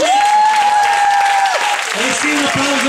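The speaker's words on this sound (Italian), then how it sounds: "E sì, un applauso ci vuole." An audience applauds after a salsa school's student dance show, the clapping steady and broad beneath a sustained whistle-like tone and then a voice speaking over it.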